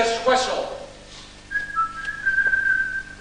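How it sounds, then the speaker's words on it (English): A single sustained, shrill whistle signal sounds loud and steady for nearly two seconds, following a brief burst of voices and noise. "When you hear this whistle."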